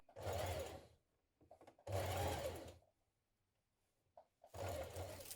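Sewing machine stitches along a folded binding to form a casing in an upper dress sleeve, three separate bursts of motor whir of about a second each with quiet gaps between, close and clear, no speech.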